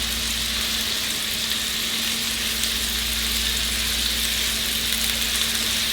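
Food lightly browning in a pan on a stovetop over medium-high heat gives a loud, continuous, even sizzle, dense and hissing, with a faint low hum underneath and no voices.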